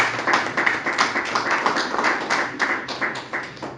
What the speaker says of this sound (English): An acknowledgement by clap of hands will be most welcome.